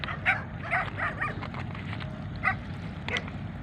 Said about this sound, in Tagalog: tinatahulan na ako ng mga aso.